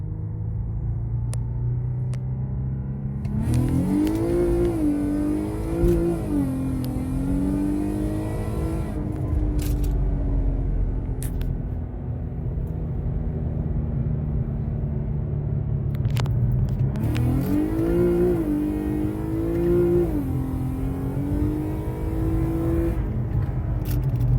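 A car running a 125 nitrous shot drives on a road, its engine droning steadily with two clear revving surges as it accelerates, loud and close with no talking.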